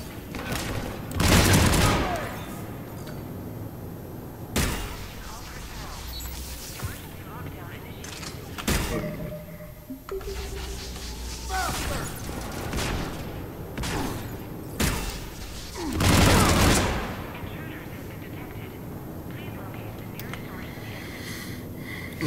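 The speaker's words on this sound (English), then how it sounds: "Who is shooting us?" Gunfire from the video game Mass Effect 3 crackles in several loud bursts spread through a busy mix of game effects and ambience, with sharp cracks and booms standing out at irregular intervals.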